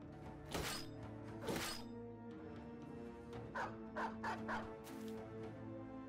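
Dogs barking and scuffling in Battle Brothers combat, a couple of loud barks followed by a cluster of quicker yips and thuds over a steady, tonal music bed.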